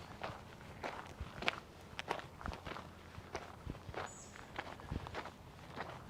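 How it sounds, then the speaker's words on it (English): Steady crunching footsteps sound on an outdoor path at an open-air sculpture park, an even walking rhythm of close, gritty steps with no talk over them. "The crunch of your footsteps is very..."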